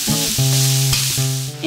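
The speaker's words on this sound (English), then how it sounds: "To it, I'm going to add the chopped onion" Chopped onion sizzles and fries with Italian sausage in a frying pan, a steady close crackle with stirring and no talk.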